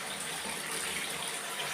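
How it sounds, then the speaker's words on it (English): Water gushes steadily from a tap into a bucket at a rural home in the Philippines, a continuous close, loud hissing splash with no pauses and no talk. "So that's how we get water. And then we fill the buckets in there."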